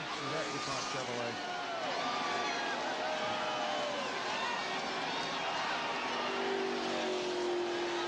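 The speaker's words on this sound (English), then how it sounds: "Jeff Gordon into the wall hard in turn two is going to limp back toward the pits." A damaged DuPont Chevrolet NASCAR stock car limps back toward the pits after hitting the wall hard, its engine droning amid the constant roar of other race cars and crowd, with commentators talking over it throughout.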